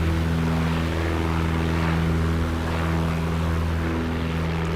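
PA-38 Tomahawk propeller engine in Microsoft Flight Simulator 2024 drones steadily and loudly, a constant throbbing hum with a rough buzzing texture and no pauses.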